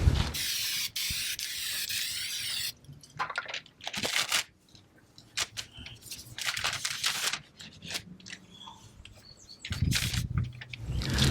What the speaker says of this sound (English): So I'm going to go over the whole bumper with this to make sure it's nice and clean.